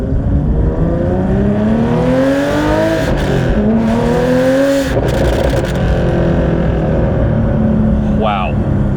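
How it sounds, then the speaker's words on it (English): A Porsche 911 GT3 Touring's naturally aspirated 4-liter flat-six with a six-speed manual revs loudly and steadily up through the gears, pitch climbing then dropping at each shift, with a brief chirp near the end. "It is so refreshing to drive a 4-liter naturally aspirated flat six"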